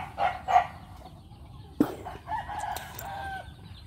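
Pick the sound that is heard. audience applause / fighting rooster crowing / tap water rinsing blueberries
fighting rooster crowing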